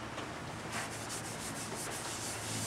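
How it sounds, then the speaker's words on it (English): A Scotch-Brite pad buffs raised fuzz off a wooden piece, a steady soft rubbing with rhythmic back-and-forth strokes, close and fairly quiet, with no talk. "I'm taking a Scotch-Brite and buffing it off a little bit because there's some fuzz standing up on it"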